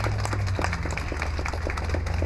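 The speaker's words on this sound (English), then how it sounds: "So can we give them a big round of applause?" Audience at a police substation ribbon cutting claps in a steady, dense round of applause, fairly close and sustained throughout, with faint voices underneath.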